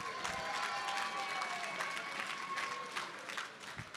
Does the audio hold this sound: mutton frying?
no